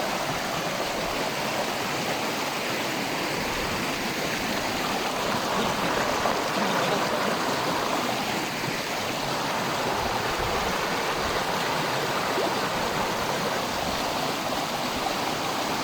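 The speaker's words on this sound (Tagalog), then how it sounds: "ito yung falls na nahanap namin" Tinakayanan Falls in Pangasinan pours in a steady, dense roar of rushing water, constant and close throughout with no talk.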